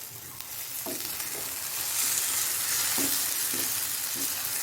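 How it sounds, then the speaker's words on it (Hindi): Mutton brain fry sizzles steadily in a pan while it is gently turned over, with soft periodic scrapes of the spatula under a constant frying hiss. "इसको हल्के हल्के हाथों से इसको नीचे ऊपर कर देंगे।"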